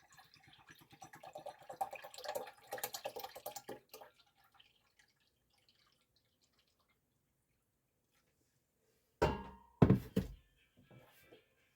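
Cups of grape juice are poured into a pot for grape jelly, two faint bursts of splashing liquid with sharp splashes separated by a long quiet gap.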